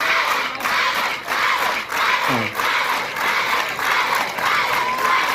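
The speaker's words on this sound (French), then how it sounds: "On va encore applaudir" A school audience at an academic day at a lycée in Agboville claps and cheers loudly and steadily, a dense crowd roar that holds for several seconds with a brief voice sliding through the middle.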